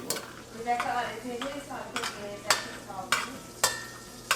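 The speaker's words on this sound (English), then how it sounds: "put in your cinnamon and clove, and I saute it for a minute or so" Cinnamon and cloves sauté in a pot for Guyanese sweet rice, with a soft sizzle under repeated scraping stirs and several sharp utensil knocks against the pot, close and fairly clear.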